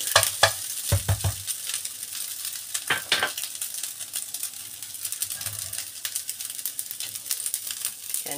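Simple fried rice being stir-fried in a pan, with a steady close sizzle and repeated scraping, clinking strokes of a utensil against the pan throughout.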